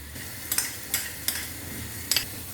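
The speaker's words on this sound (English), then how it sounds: "Just give this garlic a mix" A utensil scrapes and stirs finely chopped garlic in a pan, making four quick metallic strokes over a soft continuous sizzle of hot oil, close up.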